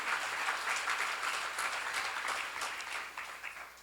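Steady applause from a church seminar audience, a dense wash of many hands clapping at an even level for several seconds, fading slightly at the end.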